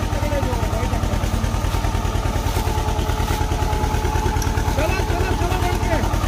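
A Swaraj 724 tractor engine runs under load pulling a disc harrow in a field, a steady, loud, rapid diesel chugging throughout with faint clatter on top, while someone speaks over it.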